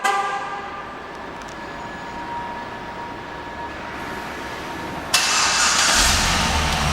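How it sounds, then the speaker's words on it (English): A steady low engine hum runs for several seconds, then a 2012 Cadillac CTS-V Coupe engine kicks in by remote start with a sudden louder rush and keeps running close by. "And the car comes right on."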